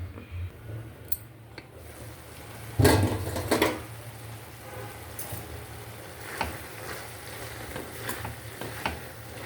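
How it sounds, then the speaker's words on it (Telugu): Broad beans and tomato curry simmer in a pan, giving a soft, steady sizzle with a few louder clatters and stirring sounds near the start, all close and without talk. "ప్లేట్ పెట్టేసుకొని దగ్గరకు వచ్చే వరకు ఉడకనిద్దాం"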